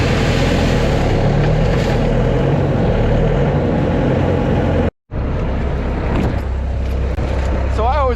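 Skid steer engine idling and running steadily before moving a load of gravel, a loud continuous low rumble with a brief cutout midway, then resuming.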